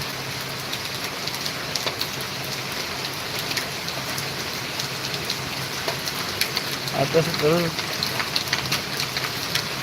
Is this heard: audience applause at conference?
no